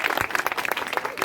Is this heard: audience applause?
yes